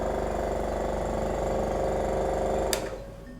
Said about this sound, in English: I can connect it up to a vacuum pump, like so, and when I turn it on, it will pull the liquid through